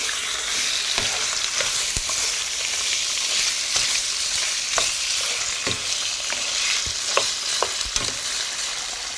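Beef liver stirred in a hot pan for an oyster-sauce dish, a steady frying sizzle with irregular scraping and clacking strokes of the utensil throughout.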